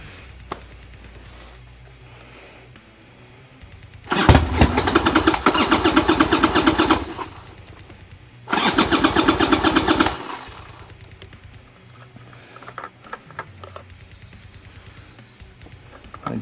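A 1990 Harley-Davidson Sportster motorcycle engine cranks and sputters in two loud bursts of several seconds each, with quiet gaps between and after, heard up close with no talking.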